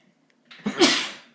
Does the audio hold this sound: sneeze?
yes